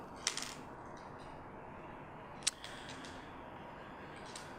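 Metal pen nibs are lifted from their container, giving two bright, brief metallic clinks a couple of seconds apart over quiet background hiss.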